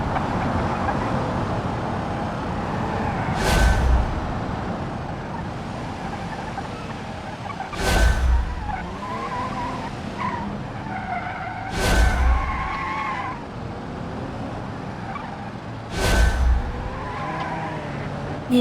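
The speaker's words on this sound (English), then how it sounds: "A little bit of sliding out of the rear end there." Car tires skid as the rear end slides out while driving in the BeamNG video game, with four sharp squealing bursts spaced a few seconds apart over a steady engine hum.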